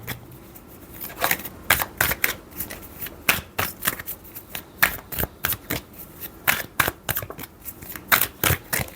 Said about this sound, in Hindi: ठीक है, एक लास्ट कार्ड ले लेते हैं।